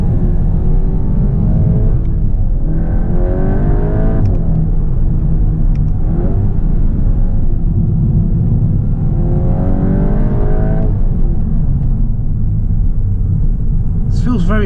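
A 2022 Volkswagen Golf GTI Clubsport MK8 engine heard from the cabin, a steady low rumble with repeated rising revs and gear changes, under someone talking over it.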